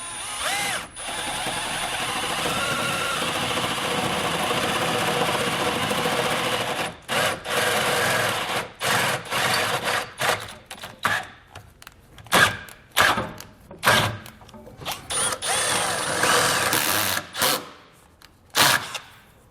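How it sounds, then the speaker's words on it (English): A power drill bores a hole through the body of a 2011 Ford Edge for a Curt trailer hitch, first a long steady whir, then a run of short stop-start bursts, close up and alone. "So I'll get my drill bit and open that up"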